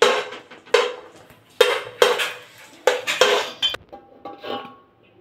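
Metal utensils clatter and scrape against a pan while ingredients fry in ghee for Telugu-style tomato rice, giving a series of sharp, close clinks and stirring scrapes with brief pauses between them.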